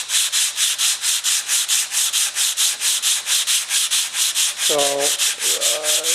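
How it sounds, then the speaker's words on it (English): Wood finish being hand-sanded with 80 grit sandpaper, a steady back-and-forth rasping in regular strokes, close and continuous, with a brief spoken word near the end. "you use the 80 grit sandpaper to try to get rid of the bulk of the scratches"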